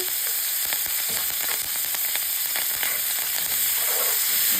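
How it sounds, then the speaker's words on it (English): Rosemary, thyme and onions sauté with oxtail juices in a skillet, giving a steady close sizzle with scattered pops and crackles, and no talk. "And then we're just going to saute all that together."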